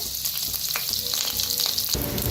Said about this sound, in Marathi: आता तेल गरम झाले, त्याच्यातच टाकूया लसूण आणि अद्रक भाजून घ्यायचं आहे।